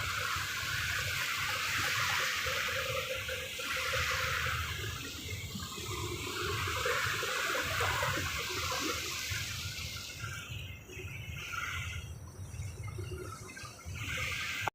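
Choppy river water sloshes and churns steadily around a launch on the river, a dense close wash of splashing that barely eases for the whole stretch.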